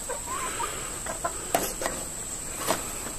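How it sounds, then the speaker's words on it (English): Chickens cluck softly around the yard in scattered, faint calls over a steady insect-like hum in the background. "And that's the chickens"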